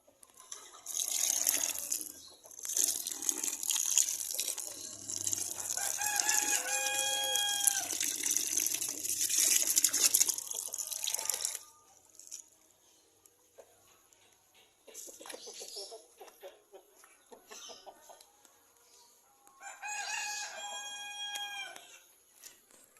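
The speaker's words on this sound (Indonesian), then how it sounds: "itu ayam pedagingnya, ayam kampung biasa" Several roosters crow loudly among clucking free-range village chickens and rustling outdoor noise, with a quieter stretch before another crow near the end.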